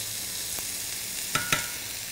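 Cumin spice tipped into onions frying in a pan, a soft steady sizzle with a couple of quick sharp spikes as the spice lands and hisses, close and fairly quiet.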